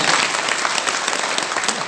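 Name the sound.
audience applause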